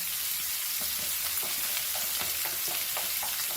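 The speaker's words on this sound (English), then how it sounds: "And fry this very nicely." Chopped onions sizzle steadily in hot oil in a pan for Goan prawn chilli fry, a close, continuous crackling hiss with faint pops and no voices.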